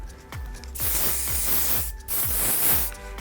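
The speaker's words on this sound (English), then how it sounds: "I'm just gonna finish this off with a spritz of hairspray" Two short hissing spritzes of hairspray from an aerosol can, each a bright burst of about a second, close and clear, with quiet pauses between.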